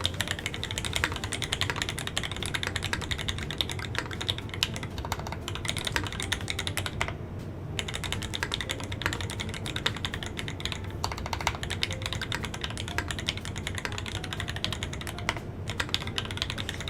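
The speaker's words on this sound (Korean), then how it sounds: "이제 네, 타이핑 한번. 사운드 들려주시면 됩니다." Steady, dense typing on a custom-built mechanical keyboard, keystrokes clattering continuously at a moderate level with only brief pauses, heard alone without talk.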